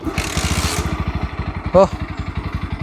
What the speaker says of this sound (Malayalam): കിക്കർ അടിച്ച് സ്റ്റാർട്ടാൻ കുറച്ചൊരു നാക്ക് വേണം കേട്ടോ